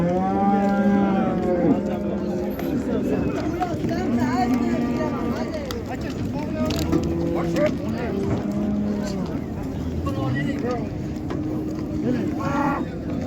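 At a cattle bazaar in Karshi, a cow lets out several long, loud moos close by, mixed with the crowd noise and steady bargaining chatter of buyers and sellers.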